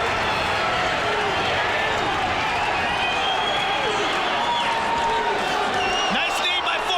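Loud arena crowd roaring and cheering throughout a mixed martial arts fight, a dense, continuous wash of voices with scattered shouts and whistles and no break.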